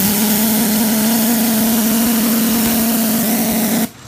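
A Three Truck Shay locomotive engine running on a stand, a loud, close, steady droning hum with an even tone that cuts off abruptly just before the end.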